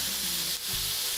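Ham fries in a pan with a steady, bright sizzle that runs continuously, briefly stirred partway through.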